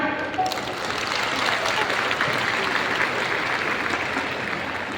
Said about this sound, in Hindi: कम से कम इंडियन डायरेक्ट सेलिंग कंपनीज के लिए तालियां हो जाए